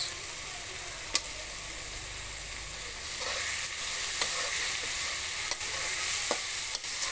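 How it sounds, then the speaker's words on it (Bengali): Ingredients for chicken fried rice fry briefly in a pan, a steady sizzle that grows louder after a few seconds, punctuated by occasional sharp scrapes and taps of a utensil. "খুব বেশি ভাজবো না অল্প একটু টাইম আমি ভেজে নেব"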